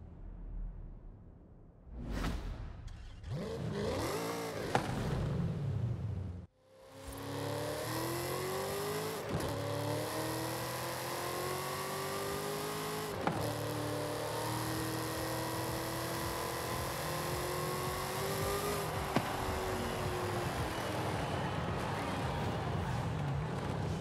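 A Ford Falcon GT F with a Coyote V8 in Forza Horizon 5, revving briefly, then launching hard and pulling through several gears with rising engine pitch and sharp shift breaks, loud and close.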